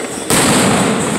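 A sudden loud Fourth of July firecracker blast erupts and is followed by a crackling, sustained rush of bursting noise close by.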